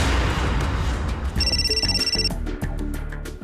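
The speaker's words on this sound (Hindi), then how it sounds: "मोबाइल की रिंग बज रही है" A mobile phone ringtone chimes over a loud, busy background in a Hindi horror drama set at a cottage, the electronic ring rising midway through and repeating in short pulses.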